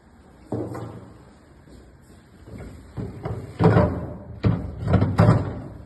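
The door of a C&A Chama three-sided wood stove insert is refitted and tightened, making a string of irregular close clunks and knocks that grow louder toward the end, with no voices.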